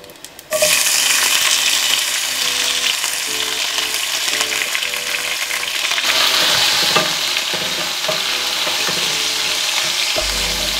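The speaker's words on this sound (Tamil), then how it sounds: "இதோட சேர்த்து பொரிஞ்சு கொண்டிருக்கேக்க நாங்கள் இடித்த வெங்காயம், இஞ்சி, உள்ளி, பச்சை மிளகாய் எல்லாத்தையும்" Crushed onion, ginger, garlic and green chili hit hot oil in a pan for a barracuda fish curry, bursting into a loud, continuous close sizzle with occasional stirring clatter and a sharp clank at the end.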